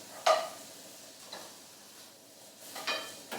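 Chopped white onion frying in a little rapeseed oil gives a low, steady sizzle, broken by a few scraping stirs and clinks in the pan.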